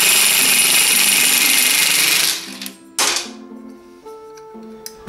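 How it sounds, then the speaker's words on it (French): An impact wrench rattles loudly and steadily on the variator of a 2014 Yamaha X-Max 125 scooter, stops after about two seconds, and is followed by a few metallic clinks and faint ringing, close with no talking. "Donc, clé à choc, bloquez votre variateur"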